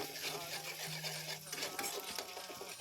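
Ginger paste is stirred in a kadai, the spoon scraping steadily against the pan over a low sizzle while a person talks throughout.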